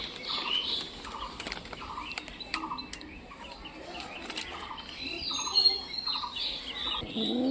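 Pigeons in a loft, scattered chirps, squawks and short calls in irregular bursts, fairly near, over a low background hum with no talk.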